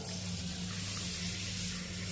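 Water runs steadily into a bowl holding half a kilo of ragi grain, a continuous close splashing hiss with a low hum underneath and no speech.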